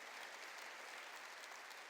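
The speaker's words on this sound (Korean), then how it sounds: "박수로 하나님께 영광을 돌려요" A church congregation applauds together during a Korean sermon, a steady, dense wash of clapping that fills the whole moment with no voices breaking through.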